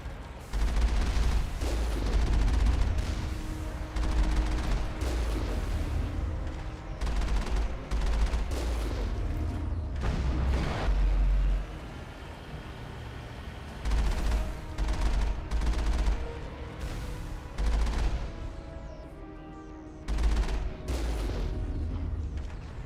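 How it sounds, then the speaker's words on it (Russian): Repeated bursts of gunfire from a Mass Effect battle crack out loud and close across the whole stretch, separated by short pauses and layered over a steady low game rumble. "А нет, кто-то стреляет."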